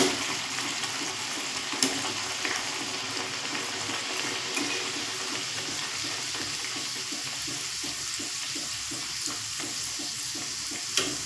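Spinach puris frying and puffing in a shallow layer of hot oil, a steady close sizzle and bubbling crackle running throughout, with small pops and stirring now and then.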